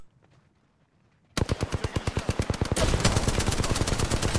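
Rapid bursts of automatic gunfire in Apex Legends, loud and close, starting after a quiet moment and continuing as a steady rattling stream.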